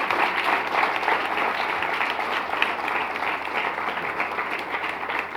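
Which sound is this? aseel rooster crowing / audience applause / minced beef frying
audience applause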